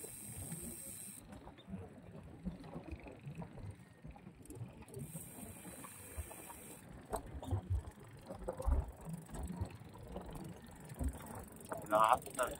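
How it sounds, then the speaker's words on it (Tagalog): A steady rush of strong wind hisses and buffets against the microphone at a dike in Malabon, with water and boat sounds in the background and a voice talking briefly. "Lakas ng hangin"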